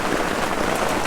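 Steady rain drums on a tarp shelter in still air, a dense, close, even patter of drops with no break throughout.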